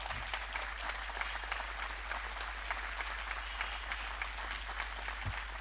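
Audience applause at a Marathi history lecture on the Battle of Palkhed: dense, sustained clapping from a seated crowd fills the whole stretch at an even level, with no voices over it.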